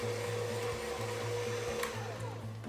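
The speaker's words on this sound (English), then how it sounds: "We're creaming the butter and the cocoa powder." An electric mixer creams butter and cocoa powder for a Halloween cake, a steady close whirring hum running slowly and evenly throughout with no voices.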